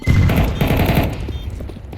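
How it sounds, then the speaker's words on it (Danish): MP9 submachine gun fire in Counter-Strike 2, a dense, rapid burst of close, loud shots that rattles for about a second before fading into a quieter tail. "jeg bliver skudt ud af en MP9"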